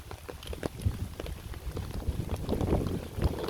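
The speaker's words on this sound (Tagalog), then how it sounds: "hinahampas ng hangin yung aking payong" Gusty wind slaps and flutters against an umbrella overhead in the rain, a rough, irregular buffeting that grows louder toward the end.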